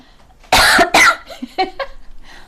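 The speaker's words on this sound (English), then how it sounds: "I need to cough." Two loud, harsh coughs in quick succession, close up, followed by a few softer throaty sounds.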